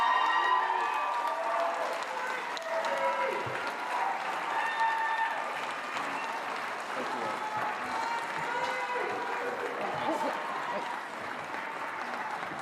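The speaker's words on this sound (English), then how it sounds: "Please go ahead and applaud now." An audience at a televised Ohio Republican U.S. Senate candidates' debate breaks into sustained applause, a dense, steady clatter of many hands with faint crowd murmur and a few cheers mixed in throughout.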